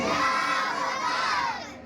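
A religious gathering shouts back in unison to a takbir slogan call, a loud massed chant of many voices, including children's, that holds and then fades near the end.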